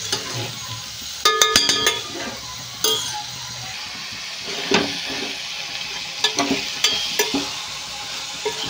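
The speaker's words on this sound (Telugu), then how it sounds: "ఇవి కూడా ఫ్రై చేసుకోవాలండి ఉల్లిపాయలతో పాటు" Ridge gourd and onions frying in a pan for a curry, a steady soft sizzle broken by sharp metallic clinks and scrapes of a spoon stirring against the pan, no talking.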